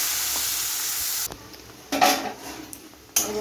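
Ground spice paste of ginger and garlic hitting hot oil in a pan for a wedding-style doi katla fish curry, giving a steady sizzle and then sharper bursts of frying and stirring with utensil scrapes.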